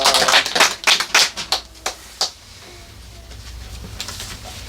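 Church congregation applauding after a prayer: a quick flurry of hand claps at the start that thins into a few separate claps and fades out within two seconds, followed by quiet room tone.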